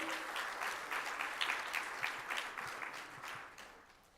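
An audience at a women's empowerment business event applauds the country's leaders, a warm dense round of many hands clapping that swells, holds, then gradually tapers off.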